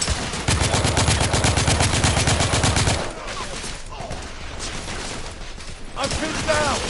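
Dense, rapid gunfire bursts from The Order 1886 video game, loud and sustained for a few seconds, then dropping to a quieter rumble of distant shots with scattered battle noise.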